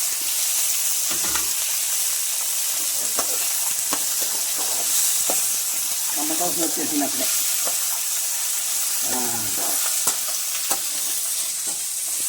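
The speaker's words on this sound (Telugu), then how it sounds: "అబ్బో నాకన్నా హడావుడి చేస్తుంది తాలింపు" A Telugu tempering (talimpu) crackles and sizzles in a hot pan for ash gourd buttermilk curry, a steady hiss with bursts of popping and stirring scrapes, while someone talks intermittently over it.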